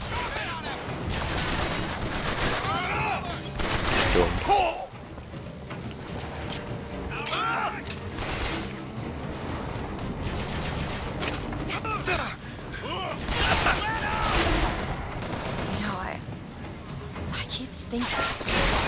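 Gunfire in Bioshock Infinite, with repeated sharp shots and booms scattered through mechanical clanks and creaks, loud and close, under ongoing game noise and a voice talking.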